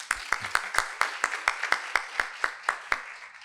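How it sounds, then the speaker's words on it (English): Applause from a lecture audience, heard as about thirteen crisp, evenly spaced claps in a steady rhythm, fairly close, with quiet gaps between them. "Please, round of applause."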